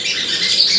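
A trained sogon songbird calls in a loud, close burst of bright, high-pitched squawking chirps, heard alone without talk.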